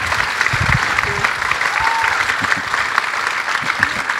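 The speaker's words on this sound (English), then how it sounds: "let's give them a round of applause" A theater audience applauds the designers of 2,000 costumes, including 400 specialty pieces, with steady, even clapping throughout, close and sustained.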